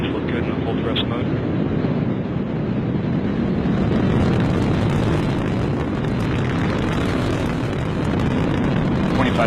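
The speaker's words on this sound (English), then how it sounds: "Delta IV Heavy rocket with NASA's Parker Solar Probe, a daring mission to shed light on the mysteries of our closest star, the Sun" A Delta IV Heavy rocket carrying NASA's Parker Solar Probe lifts off in a loud, continuous, rumbling roar that fills the whole stretch, with a voice talking over it.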